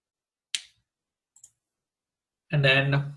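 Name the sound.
computer mouse click in software wizard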